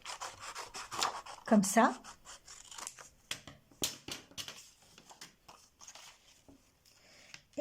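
Scissors snip through paper for a scrapbook card in a few close, scratchy cuts, followed by lighter rustling and handling, with someone speaking briefly over it.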